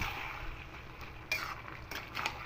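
Leafy vegetable mixture for a vegetarian Malabar spinach dish being stirred and mixed in a pot, with soft scraping and a few light clinks of a spoon against metal, close and fairly quiet, no talking.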